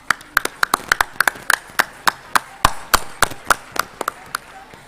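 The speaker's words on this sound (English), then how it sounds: "giving them the biggest and warmest round of applause" Parents at a school show put their hands together for the students, a few close distinct claps spaced irregularly with light crowd murmur behind, not a full dense ovation.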